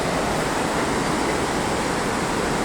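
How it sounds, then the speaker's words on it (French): Water pours into a pipe like a small torrent during river works on the Gave de Pau at Lourdes, making a loud, steady, unbroken rushing roar with no talking. "ça fait un petit torrent, c'est amusant"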